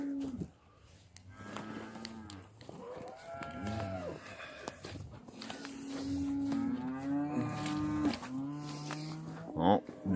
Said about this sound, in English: the cows seen me from the barn and they came up here now, the other steers